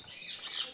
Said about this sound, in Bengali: এই যে দেখেন দাপ্তির ভিতরে আছে কবুতরগুলো,